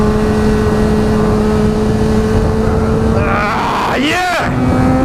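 A motorcycle on Dunlop Sportmax Q3+ tires holds steady throttle, a loud, constant engine drone with wind rush, and a voice briefly cuts in near the end.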